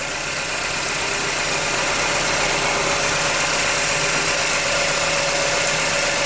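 A cold car that has sat unused for a while idles after being started, a loud, steady engine rumble with a constant hum and no speech.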